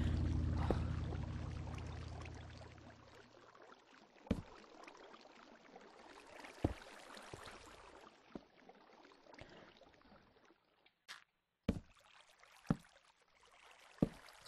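Flowing water trickles and pours inside a cave in the video game Minecraft, a faint, steady wash broken by several sharp clicks and taps.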